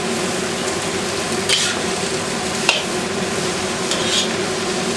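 Chicken stir fry sizzles steadily in a hot pan while being tossed, with a continuous frying hiss and a few light scraping clicks of the utensil against the pan.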